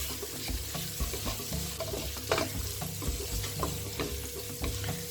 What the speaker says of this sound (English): So then I'm just mixing it all well together, letting it all mingle well together.